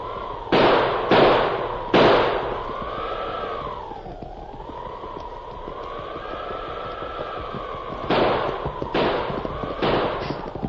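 Repeated six-gun revolver shots in an old-time radio Western drama, sharp cracks in quick bursts at the start and end, with a wavering siren-like wind tone droning between them.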